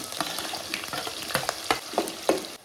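Chopped green chillies and onions frying in hot tempering oil: crackling sizzle broken by repeated sharp stirring scrapes and clacks of a spoon against the pan, close and fairly loud.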